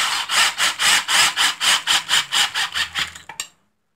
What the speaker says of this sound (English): I've got my T27 on my driver. And all I'm going to do is just run these down.